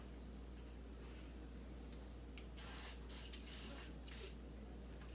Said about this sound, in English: I'm spraying it each and every time because I'm spraying it and it's sticking